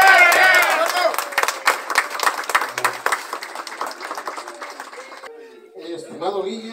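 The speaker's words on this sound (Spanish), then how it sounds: "Memo, aplauso para él" A crowd of mourners at a funeral applauds with dense, brisk clapping. The clapping thins and fades after a few seconds, and voices murmur at the end.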